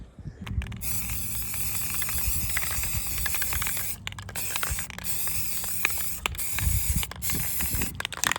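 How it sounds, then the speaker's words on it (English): Self-etching primer sprayed from an aerosol can onto bare metal spots of a Cherokee Jet Jon boat hull, a close, steady broadband hiss in repeated bursts broken by brief pauses, with occasional clicks and handling noise. "We're gonna get some self-etching primer and hit the bare spots first"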